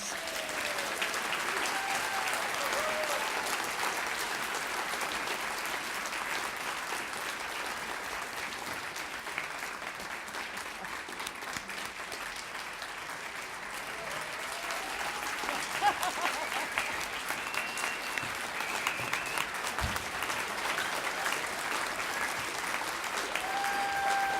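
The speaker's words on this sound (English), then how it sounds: "let's give our Silver Stars a big round of applause" An audience applauds seniors at the Silver Stars event, steady continuous clapping sustained throughout at a moderate distance, with faint crowd murmur beneath.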